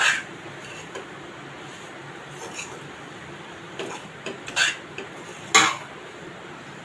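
A spoon scrapes and clinks against a pan while stirring cooked taro leaf gathiya vegetable mixed with grated coconut, giving a few sharp metallic knocks over a quiet, steady background.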